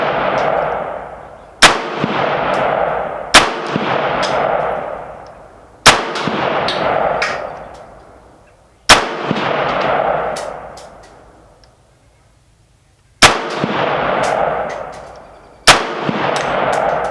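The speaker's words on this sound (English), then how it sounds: "We're just shooting at 100 yards here." Arsenal SAM-5 rifle fired outdoors at a 100-yard range, seven loud sharp shots at uneven intervals, each followed by a long echoing decay.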